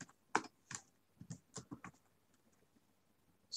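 Close, quiet computer keyboard typing in short irregular bursts of sharp key clicks, with brief pauses between groups of keystrokes.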